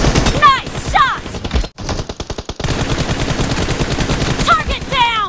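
Rapid automatic gunfire rattles through a team deathmatch in a shooting video game, loud and continuous in dense bursts, with brief game announcer callouts mixed in.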